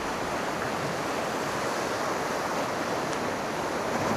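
Large surf pounds the shore at a nighttime fishing spot: a continuous, loud wash of breaking waves that holds an even level throughout, with no talking.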